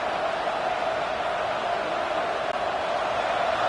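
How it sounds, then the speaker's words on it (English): Football stadium crowd noise holds as a constant, loud, dense roar with no breaks, swelling for the defense. "This crowd knows this defense needs them right now."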